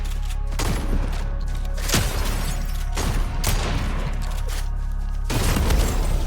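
Ranger shotgun fire in a video game, heard as several loud, sharp blasts spaced about a second apart, each with a booming low tail and some rattling in between.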